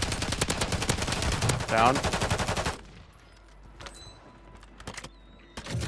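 Rapid automatic gunfire in a shooter video game rattles loud and close for nearly three seconds, then breaks into a few isolated shots as a player briefly speaks over it.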